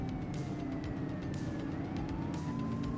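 A police car siren wails continuously, rising and falling, over engine noise and a road rumble during a car chase in The Precinct video game.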